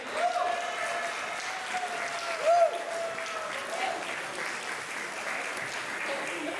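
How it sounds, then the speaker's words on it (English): Wedding guests at a reception give the couple a moderate round of applause during the speeches, steady clapping with a voice or cheer rising briefly over it midway. "can we just give a big round of applause for the beautiful couple you see all day?"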